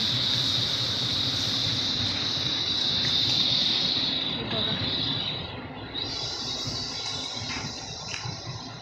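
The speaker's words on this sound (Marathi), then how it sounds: "माझ्या मागे इकडे आहे क्रेशर, खडी मशीन।" A stone crusher grit machine runs in the background near an outdoor water point, a steady far-off rumbling drone with a high whine that shifts and dips midway.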